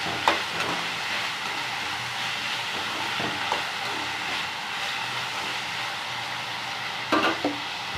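Pirandai (adamant creeper) frying in a kadai for chutney makes a continuous hissing sizzle, with occasional scraping stirs and a louder clatter near the end, heard close up with no talking.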